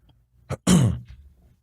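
A single short cough or throat-clearing burst, close and fairly loud, followed by quiet.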